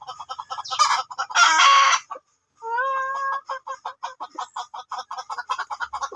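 A wild junglefowl (labuyo), one of a flock that has been falling ill, clucks in a rapid close series of sharp calls, broken by a brief pause and a longer drawn-out squawk, with no talk.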